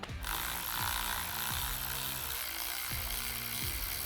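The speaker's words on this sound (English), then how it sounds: "Those are 8mm bolts we are going to need to take out, so let's go ahead and remove those." A power tool backs out 8mm bolts on a DCT transmission, a loud, close, continuous whirring and grinding with a repeating rise-and-fall in pitch about every second and no voices.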